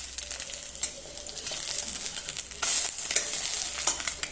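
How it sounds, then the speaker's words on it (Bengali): Poached eggs fry in a pan, a soft steady sizzle with occasional clicks and scrapes of stirring, close and alone with no voices. "আমি এইভাবে সবগুলোই যে ভেজে নেব"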